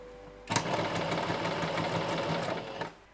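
Stitching collar interfacing onto a bodice, a sewing machine starts abruptly and runs in one steady, loud, close burst of rapid rhythmic whirring for a couple of seconds before stopping.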